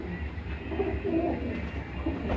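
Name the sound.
pigeons cooing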